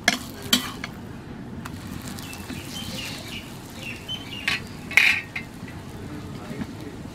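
Baby naan frying in butter in a pan and being flipped, giving soft clatter of utensil against pan with a few sharper knocks over a faint steady sizzle.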